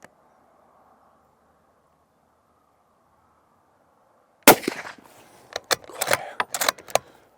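A Sako 100 Explorer rifle fires Hornady ECX ammunition outdoors, one loud sharp crack after a quiet lull, followed by a run of clattering and knocking sounds.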